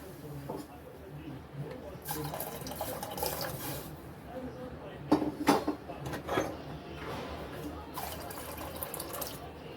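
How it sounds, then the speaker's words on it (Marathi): Water splashes and trickles into a pressure cooker holding lentils being boiled for palak dal dhokli, the pouring coming in uneven bursts close by, with a voice speaking softly in the background. "पाणी घालायचं भरपूर आपल्याला"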